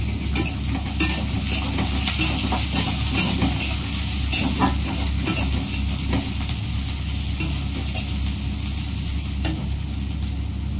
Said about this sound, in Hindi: प्याज को फ्राई होने देते हैं